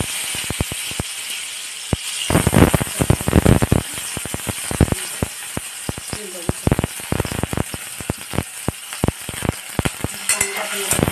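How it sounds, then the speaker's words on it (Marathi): Potato pieces frying in hot oil for batata poha, a loud, steady crackling sizzle broken by repeated sharp clatters of a spoon stirring in the pan. "इथे तेल चांगल्यापैकी तापलं की आपण बटाटे भाजूया"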